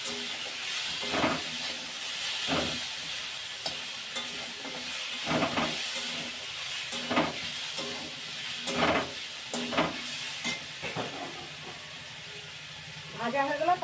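Garlic and chillies frying in a hot pan: a steady bright sizzle broken by repeated scraping stirs and knocks of a spoon, fairly loud and close, with no talk over it.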